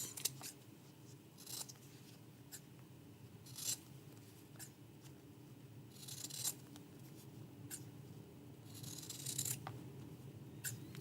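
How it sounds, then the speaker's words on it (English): Scissors trimming fabric and paper on a foundation paper pieced quilt block, a series of soft close snips and slides spaced irregularly in a quiet room. "And now we're going to trim this piece."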